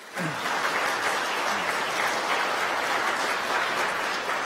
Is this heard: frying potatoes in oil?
no